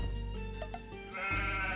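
Sheep bleating in the video game Age of Empires 2: a single quavering bleat rises out of quiet game ambience and fades, then a second wavering bleat follows, close and clear with no speech.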